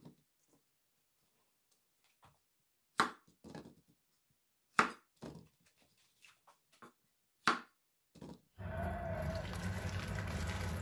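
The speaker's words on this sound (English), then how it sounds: "Remove the stems of the mushrooms." Stems are pulled from button mushrooms in a handful of sharp, separate snaps and clicks on a quiet kitchen counter, followed by a burst of running water at the end.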